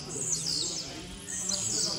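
A caged tiziu (blue-black grassquit), a tournament bird, gives two short bursts of high, thin chirps over a steady background hiss, with no talking.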